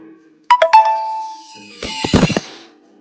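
A mobile phone ringtone sounds during a religious lecture: a few bright melodic tones near the start, then a second louder burst of ringing about a second later before it cuts off.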